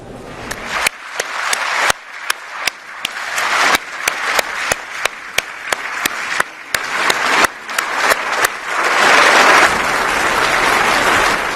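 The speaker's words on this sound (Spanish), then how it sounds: "Olena Zelenska, que recibió una gran ovación" Loud, sustained ovation from a large assembly at the EU State of the Union for Olena Zelenska, First Lady of Ukraine, with dense clapping and sharp individual claps standing out, swelling into a fuller roar near the end.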